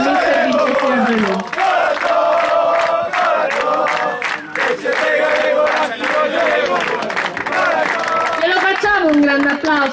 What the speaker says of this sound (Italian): Un grande applauso al presidente Colantoni.